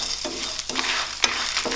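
Dry spices and curry leaves scraped and stirred while lightly roasting in a hot pan, with a steady light sizzle and several scraping strokes, close up, no voices.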